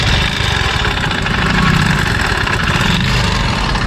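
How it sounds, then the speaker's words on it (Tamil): A faulty engine with a damaged crank that will not start, cranking and churning with a steady loud low rumble and rattling vibration throughout, with no voices present. "இது ஸ்டார்ட்டே ஆக மாட்டேங்குது. சவுண்டு பார்த்தீங்களா? சவுண்டு கேட்குதா உங்களுக்கு?"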